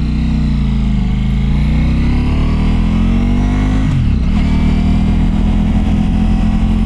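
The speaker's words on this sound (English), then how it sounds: "that exhaust sounds freaking phenomenal" Harley-Davidson motorcycle exhaust revving loudly and steadily, the engine note rising through a long pull before a brief dip and recovery, close up with no talking.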